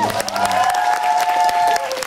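Concert audience applauding at a Christmas rock show, a broad wash of clapping and crowd noise with a sustained musical tone ringing underneath, fairly loud and steady throughout.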